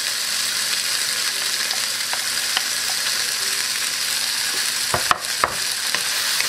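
Beef with onion, whole garlic and peppers is stirred in a hot pan for an Irish stew, a constant close sizzle broken by a few scraping and clattering strokes of the utensil near the end.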